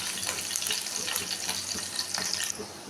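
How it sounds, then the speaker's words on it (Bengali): Chopped garlic fries in hot oil in a wok for simple fried rice, giving a steady, dense, close sizzle with crackling pops throughout. "রসুনটাকে একটু ভেজে নেব।"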